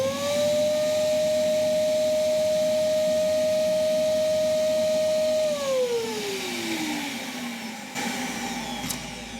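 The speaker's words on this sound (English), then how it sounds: "turn on the vacuum, and if you'll see it bring off the fluid straight away" A record cleaning machine's vacuum whines steadily as it sucks cleaning fluid off a vinyl record, holding one pitch before winding down; close and loud, with no talk.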